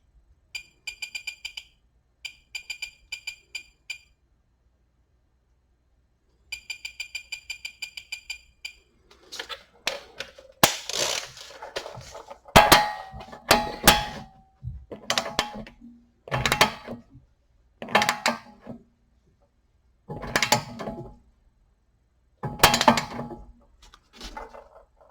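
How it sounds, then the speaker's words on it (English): A torque wrench tightens the outer tie rod end nut to 54 newton meters on a Honda Accord during suspension repair. Short bursts of rapid ratcheting clicks come first, then louder metallic clanks and knocks from close by. "put in 54 Newton meters on the torque wrench"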